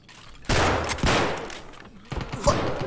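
Bursts of video game gunfire on the factory map, several loud broadband volleys in quick succession, with a short lull before another close burst near the end.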